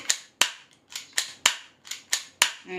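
A UDL 2011 Combat Master air-powered foam dart blaster being test fired, about eight sharp, close pops in quick, fairly even succession with no talk.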